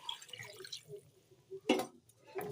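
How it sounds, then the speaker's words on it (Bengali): Water poured from a spice bowl into a pot of biryani gravy, a short liquid splash and gurgle rising out of faint background noise, with a second smaller pour near the end. "এখন মশলার বাটিটা ধোয়া এইতে এক বাটি জল দিয়ে"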